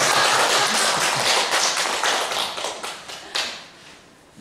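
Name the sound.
audience clapping hands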